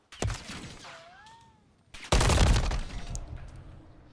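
Gunfire in a competitive shooter match: a sharp shot near the start, then a dense, loud burst of rapid fire after a short lull, with a brief whining tone in between.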